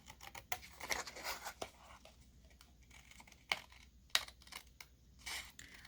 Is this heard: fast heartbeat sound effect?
no